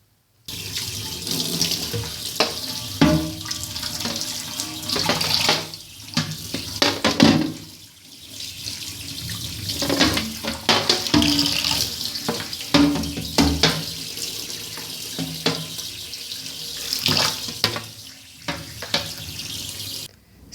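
A kitchen tap runs steadily while fridge shelves and parts are rinsed, with water splashing and clattering against plastic near the microphone and a short lull partway through.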